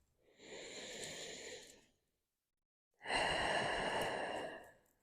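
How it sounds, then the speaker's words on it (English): Two long, deep breaths drawn during a beginner yoga session, each a soft airy rush lasting over a second, separated by a short silence, close and clear with no talking. "Two more deep breaths."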